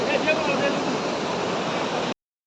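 Cold glacier water from a stream in Pahalgam, Kashmir rushes in a steady, close, broadband roar that holds constant and then cuts off abruptly.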